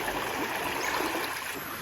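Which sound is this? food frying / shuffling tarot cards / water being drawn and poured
water being drawn and poured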